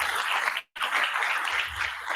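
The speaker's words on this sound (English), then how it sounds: "Let us give the clap." Steady clapping from a seated audience at a two-day national seminar on rural local government, a dense crackle with one very brief cut partway through, then continuing at an even level.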